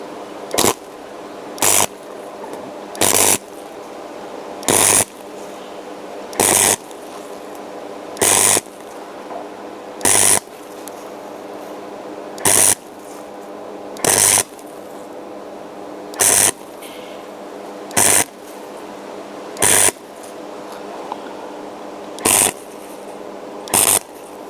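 Tack welds go down on metal in a row of short, sharp crackling bursts, about fifteen evenly spaced one to two seconds apart over a steady background hiss.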